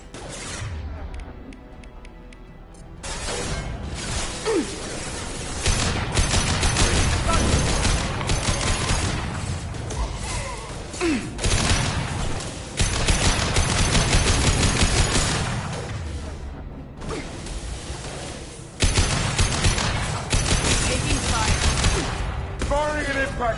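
Gunfire in Mass Effect 2 comes as dense, loud rapid bursts and impacts, almost continuous, with crashes and voices talking over the fighting.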